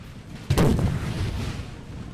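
A single heavy artillery boom in the video game Napoleon Total War, a sudden loud thud followed by a rumbling decay that lingers for over a second.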